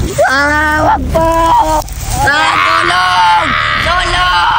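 A child screams and wails for help in loud, strained, drawn-out cries that come in several desperate bursts, close to the listener.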